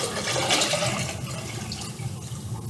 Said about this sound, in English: You take the disinfectant and you pour it into the container